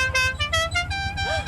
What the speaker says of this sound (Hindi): चले हॉर्न बजाएं।